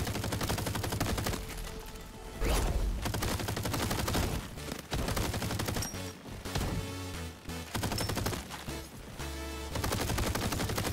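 Loud, dense bursts of automatic gunfire and heavy blasts in a crab-themed shooting video game, sustained volleys with short gaps between rapid-fire stretches, close and overpowering.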